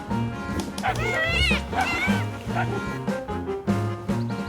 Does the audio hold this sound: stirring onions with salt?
no